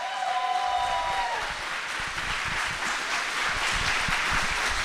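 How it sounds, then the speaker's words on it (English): A crowd applauding for a debater at a live event in Seattle, steady clapping that swells after a short announcer line and continues loud and dense throughout. "Keep your applause going for your main man, Donald Trump's worst nightmare, Destiny."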